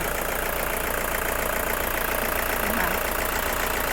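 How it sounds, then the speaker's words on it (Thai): A Toyota Commuter 2.5 van engine idles steadily throughout, a constant close-up mechanical hum and rattle with no talking. "สตาร์ทเครื่องยนต์อยู่นะคะ ฟังเสียงเครื่องยนต์ได้เลยค่ะ"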